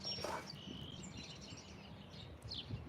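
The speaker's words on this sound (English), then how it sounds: "I want my tribe of sparrows to be comfortable." Sparrows chirping outdoors: a few faint, scattered tweets and calls over a low background rumble, with one brief chirp near the start and more near the end.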